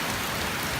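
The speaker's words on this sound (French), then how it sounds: "Regardez-moi comme il pleut." Heavy rain pouring down after a hot day, a dense, loud, unbroken hiss of water over a very short stretch, with no voices.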